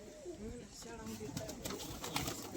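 Pigeons coo in soft, repeated throaty calls while a person talks over them, with a faint background hum throughout.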